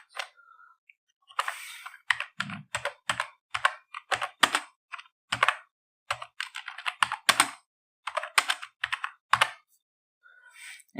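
Bursts of key clicks from a computer keyboard as words are typed into Microsoft Word, close and fairly loud, in irregular rapid runs with brief pauses between them.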